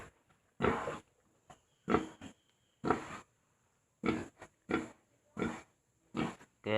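Pigs on a farm let out a series of loud, close grunts and oinks in separate bursts, with short quiet gaps between them.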